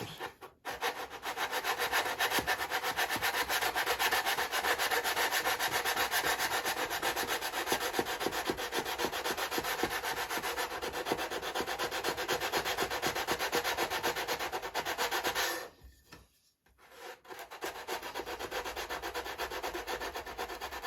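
Balsa wood fuselage sheeting on a Carl Goldberg Tiger 2 model airplane is sanded with a steady, close, rhythmic rasping scrub that runs continuously. It breaks off for about a second, then resumes.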